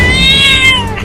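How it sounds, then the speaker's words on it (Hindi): A cartoon cat gives one drawn-out, loud meow that rises and then slides downward, heard up close over a busy background. "एक बिल्ली भी आ रही है"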